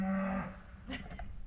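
A dairy cow on a small homestead farm, waiting to be milked, lets out one loud, close moo that then fades into quieter grunting and breathing.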